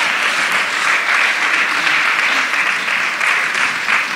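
Loud, sustained applause from an audience welcoming a couple onto the stage, a dense steady clapping that holds evenly from start to finish.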